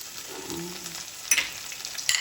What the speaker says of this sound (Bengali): এটা রসুনটা কাঁচা লঙ্কাটা ভাজা হয়ে গেছে